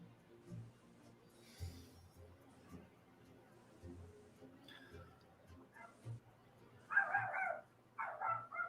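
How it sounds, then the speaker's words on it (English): A dog barks in the background of a quiet room: faint low sounds at first, then two short bursts of barking near the end. "Can you hear the dog in the background?"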